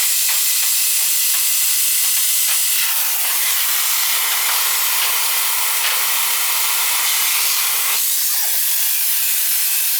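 Nitrogen gas hisses steadily out of the line of a Trane home air conditioner that is not cooling, a loud, continuous, close rush of escaping pressure that holds for the whole stretch, with no talking.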